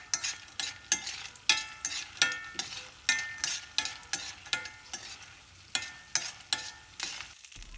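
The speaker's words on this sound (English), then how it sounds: "Fry this sundakka vattal until it turns black." Dried turkey berries fry in a pan, sharp rhythmic scrapes of a spoon stirring about twice a second over a soft underlying sizzle, close and fairly quiet.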